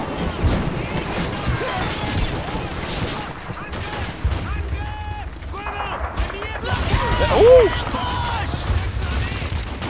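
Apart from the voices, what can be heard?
handgun firing in the video game Call of Duty 2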